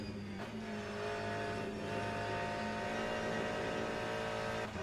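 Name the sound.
hypercar engine in video game Le Mans Ultimate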